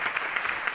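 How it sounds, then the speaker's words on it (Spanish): Brief applause for the sound and lighting crew at a cultural event held at a union venue; quick clapping, rather faint and distant, with no voices over it. "Aprovecho para que le demos un fuerte aplauso a la gente del sonido y las luces que nos están acompañando."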